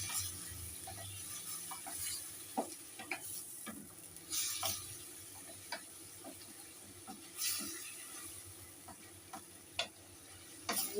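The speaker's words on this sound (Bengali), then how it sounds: "এবারে দিয়ে আমি একটু ভালো করে নেড়ে নেব।" Egg curry masala with a splash of water added bubbles and sizzles gently in a pan while a spoon stirs it, scraping and clicking in irregular bursts; close but fairly quiet, no speech.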